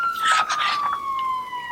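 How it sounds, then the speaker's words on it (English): A wailing emergency siren sound effect for a fire engine, a single clear, loud, slowly falling tone held for under two seconds, standing alone without talk. "It will have a loud siren and flashing lights."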